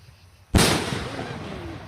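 A firework fired from a multi-tube backyard show goes off in one sudden loud boom, then a long rumbling, crackling decay. No one talks.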